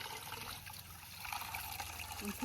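Water runs and trickles steadily at low volume while raw chicken is washed, with a faint clatter near the end and soft voices in the background.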